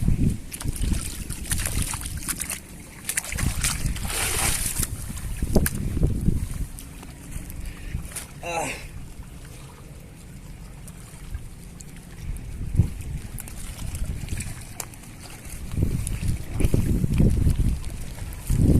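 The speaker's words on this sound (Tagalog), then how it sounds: "Medyo malakas ang hangin kaya hindi natin kayang salangatin" Strong wind buffeting the microphone near the sea off a boat in the Philippines, rumbling gusts rising and falling with waves and water splashing, no talk.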